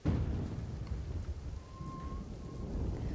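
Heavy monsoon rain pours steadily over a flooded market street in Dhansura, Aravalli, Gujarat, a dense continuous hiss with faint low rumbles, and no voices.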